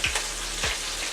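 Chicken fries in oil in a frying pan with a steady, soft crackling sizzle and a few light clicks of movement, close and continuous with no talk.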